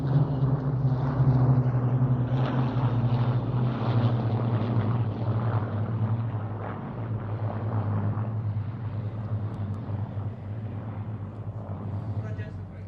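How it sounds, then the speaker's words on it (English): Two Supermarine Spitfires and two Hurricanes of the Battle of Britain Memorial Flight pass in a four-ship formation at the RAF Cosford airshow, a steady loud piston-engine drone with wind buffeting, slowly fading. "here comes the Battle of Britain Memorial Flight fighters."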